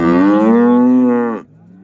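A single cow at a livestock market gives one loud, close, sustained moo lasting about a second and a half, which then cuts off.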